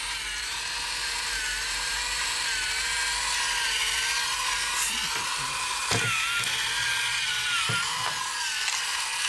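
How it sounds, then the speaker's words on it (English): Transformers Zone toy drill spinning from its motorized mechanics, a steady high whirring hum with faint clicks and rattles, close and continuous throughout. "the drill tends to spin when we turn on the mechanics"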